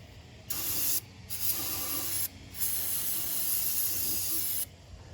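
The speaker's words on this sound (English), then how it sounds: "Let's spray some brake cleaner on there too and rub it down." Bursts of brake cleaner spray hiss in three long blasts separated by short pauses, with faint rubbing and mechanical rattling underneath, during a Jeep TJ water pump replacement.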